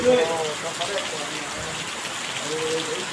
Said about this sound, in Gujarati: થોડી આ વરસાદ